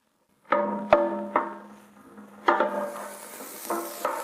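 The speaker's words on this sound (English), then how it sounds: "Now we've sauteed it nicely until it's got a beautiful color." Vegetables sautéing in a pan for a roast duck dish, heard as a steady low sizzle with several sharp clanks and scrapes of a utensil stirring against the pan, close and fairly loud.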